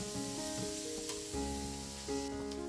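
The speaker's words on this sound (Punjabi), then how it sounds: "ਹੁਣ ਇਹ ਸਾਰੇ ਮਸਾਲਿਆਂ ਨੂੰ ਨਾ ਆਪਾਂ ਥੋੜ੍ਹੀ ਦੇਰ ਪਕਾ ਲਵਾਂਗੇ, ਗੈਸ ਦੀ ਫਲੇਮ ਨੂੰ ਸਿਮ ਹੀ ਰੱਖਾਂਗੇ ਇੱਥੇ" Spices frying steadily in oil over a low gas flame, a continuous soft sizzle with faint crackle and occasional stirring, heard alone at close range.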